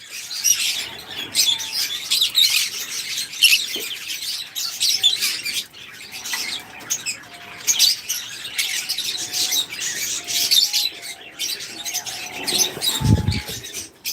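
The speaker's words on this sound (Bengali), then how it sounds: "যারা হাই মিউটেশনের লাভ বার্ড দেখেন নাই তারা আমাদের কাছে সর্বোচ্চ হাই মিউটেশনের লাভ বার্ড এই জোড়াটা রয়েছে" High-mutation lovebird pair at a bird farm, giving busy, shrill chirps and tweets that continue throughout at close range, with a short low thump near the end.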